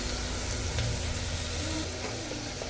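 Onion and garlic go into hot oil for a Marathi chicken tikka fry, giving a dense, loud, continuous sizzle that stays close and steady throughout.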